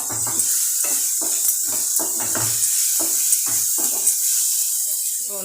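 Onions sautéing with ginger-garlic paste in a pan give a steady bright sizzle, while a voice talks in short bursts over it.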